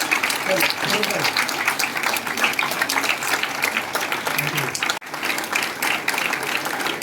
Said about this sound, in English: please clap, big clap for her